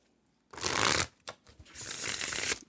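Two bursts of tarot card shuffling, each a papery riffle about half a second long, with a brief tap between them, heard up close.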